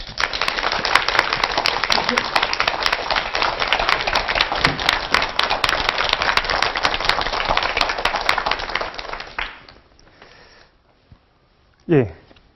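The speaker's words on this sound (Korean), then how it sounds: "최성호 사장님을 여러분 큰 박수로 모시겠습니다" Studio audience in a Korean TV lecture hall gives a long burst of loud, dense clapping that cuts off abruptly, followed by near silence and a brief voice.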